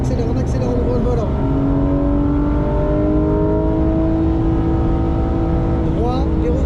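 A car accelerates on a racetrack during a driving coaching session, its engine a loud, continuous drone climbing steadily in pitch, then dipping briefly before surging again near the end.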